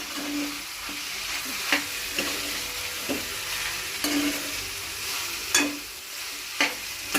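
Green peas frying with ginger-garlic paste for a cauliflower curry, a steady soft sizzle punctuated by several spoon-against-pan stirring knocks at irregular intervals, close and moderate in level with no talking.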